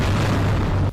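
A missile strike explosion in Tel Aviv, heard as a loud, sustained rumbling boom with a deep low roar that holds for nearly a second before cutting off abruptly.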